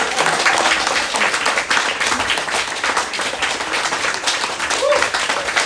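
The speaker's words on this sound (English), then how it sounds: "You can applaud now." Theater audience applauding steadily for several seconds, a dense wash of clapping from a sizable crowd with no talking over it.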